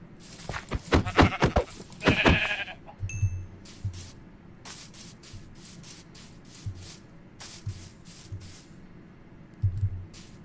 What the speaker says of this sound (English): There's another sheep.